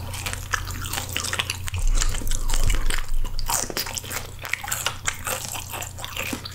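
Crunchy pan-grilled smelt fish being bitten and chewed close to the mic, steady crisp crunches and wet mouth sounds over a low background hum, with no talking.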